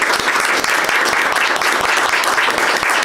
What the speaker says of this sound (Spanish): si me acompañan a darle un aplauso a los expositores